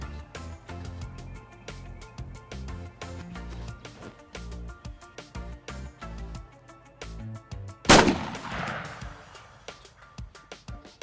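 Shotgun fired while turkey hunting from a blind, a single loud sharp blast midway through, standing out over a background of rustling and handling noise.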